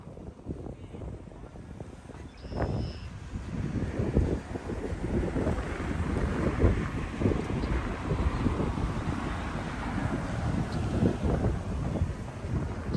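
Strong wind buffets the microphone in continuous rumbling gusts, building after a few seconds and staying loud throughout.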